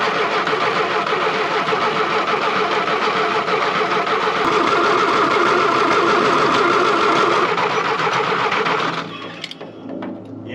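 A World War II Ford Jeep engine with a rebuilt carburetor and new fuel pump, unrun for 60 years, cranks loudly and continuously for about nine seconds, then cuts off abruptly.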